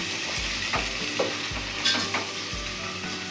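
Mutton curry sizzles steadily in a pan over a low gas flame while a spoon stirs it in regular scraping strokes about twice a second.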